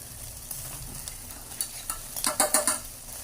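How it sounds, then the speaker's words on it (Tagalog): Pork chops sizzling on a grill for a barbecue lunch, a faint steady crackle that builds into a few louder bursts of spitting and scraping toward the end, with no talk. "Ihaw-ihaw portion. Ihaw na masarap."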